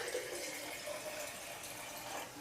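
Boiled and cooled water pours steadily into a collected homebrew yeast slurry a couple of days after kegging, a continuous close splashing wash with no break.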